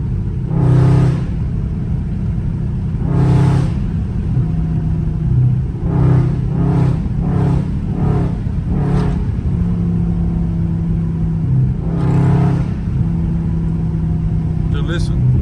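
A Dodge Charger Scat Pack engine revs in several sharp bursts, loud and close, with crackling pops between throttle blips and a steady low rumble underneath.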